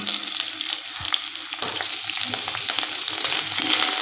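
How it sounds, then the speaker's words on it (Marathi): Sliced onion crackles and hisses in hot oil in a kadhai over a high flame, with steady loud frying and occasional tossing scrapes close by. "हाय फ्लेमवरतीच कांदा टॉस करायचा आहे."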